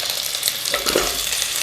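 Close, steady sizzle of potatoes frying in a pan with browned onions and bay leaves, with faint stirring scrapes under a continuous crackling hiss.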